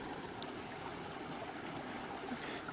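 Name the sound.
water filling a bottle from a backcountry stream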